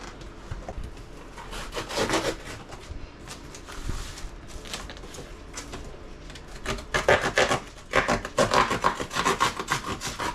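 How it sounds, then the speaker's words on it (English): Scraping, rasping strokes of a blade slicing open a cardboard box of shortening, irregular at first then quicker and louder toward the end, close up with no speech. "cut the box."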